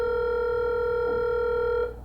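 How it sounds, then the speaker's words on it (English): A mobile phone call gives out a steady ringing tone, a single sustained electronic tone with harmonics, close and clear, that fades away at the end. "Calling Sam Palmer on their mobile phone"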